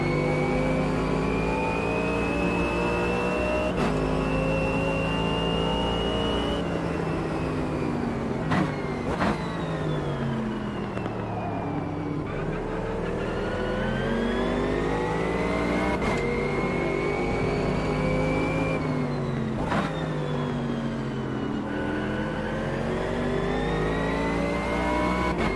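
An AMG race car in Automobilista 2 at Kyalami screams through the gears, its engine note climbing repeatedly and dropping at each upshift, loud and continuous with no talking.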